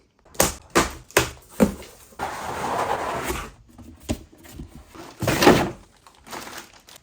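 Cardboard packaging for a 14-drawer multipurpose cabinet is handled and opened: a run of sharp thumps and knocks, then a stretch of rustling and scraping, more bumps and a louder crinkle, all close and without talk.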